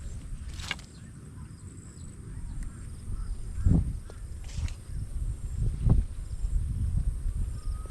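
Bird calling from a trellis near a banana tree, a few short, scattered squawks, some close and some fainter, over a low rural rumble.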